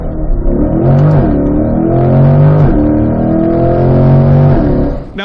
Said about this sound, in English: you have the horsepower, the 495 ponies roaring behind you now